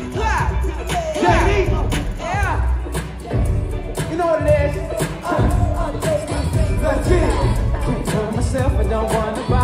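A crowd at a live concert at the Ritz in Raleigh claps in a steady rhythm along with loud music, with shouts and cheers mixed into the busy, dense sound.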